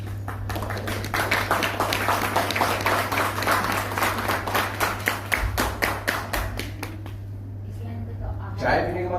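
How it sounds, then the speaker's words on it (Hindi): Audience applause at a biology conference: sustained, loud rhythmic clapping from many hands for several seconds, thinning to a few claps near the end, with a steady hum underneath. "देखो ताली बजाओ तो सब जगह बजाओ"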